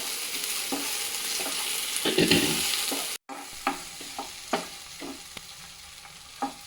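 Tomatoes sauté in a pan for a Telugu-style tomato chutney, with a close, continuous sizzle and repeated spatula scrapes and taps. There is a brief silent gap midway and no talking.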